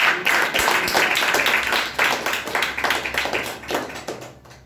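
An audience claps together in a dense, steady burst for several seconds, fairly close and loud, tapering off toward the end.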